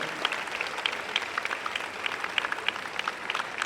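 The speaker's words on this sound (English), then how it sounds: "By a round of applause to your parents, please." A convocation audience applauds in a steady, dense wash of clapping that carries on at an even level throughout, with no voices standing out.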